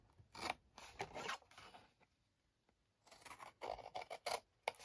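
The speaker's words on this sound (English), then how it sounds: "we're cutting up either side of that" Scissors snip through scored cardstock panels while making a Christmas gift box, several quick close cuts in two bursts with a quiet pause between.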